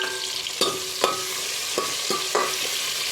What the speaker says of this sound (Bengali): দিয়ে গাজরটা ভেজে নেব